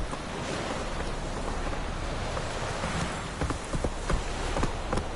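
Galloping horse hooves in Witcher 3 patter faintly beneath a wash of wind or surf-like ambience, growing a bit more distinct toward the end, with no talk.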